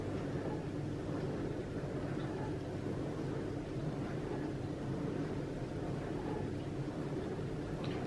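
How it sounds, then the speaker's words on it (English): A household dishwasher runs steadily in a kitchen during doughnut making, a constant low rumbling wash with a soft broadband hiss, unchanging throughout with no talk over it. "apologies for the noise in the background, is the dishwasher is currently on."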